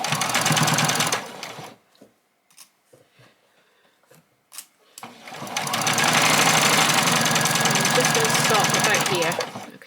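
A sewing machine stitches bag fabric in two long, loud, steady bursts at the start and end, separated by a quiet pause with light handling clicks.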